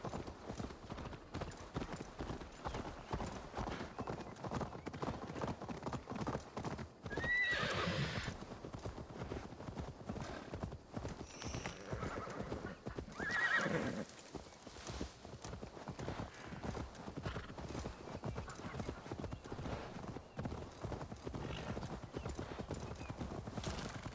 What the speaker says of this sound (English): So your horse is a bit faster than Rollo's, even when we're not sprinting.